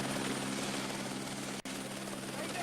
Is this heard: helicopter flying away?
yes